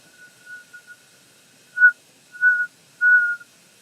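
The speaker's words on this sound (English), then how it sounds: "Let's hope for a whistle." A thin, steady high whistle sounds in several short bursts that grow louder and longer, the last lasting about half a second, against near silence.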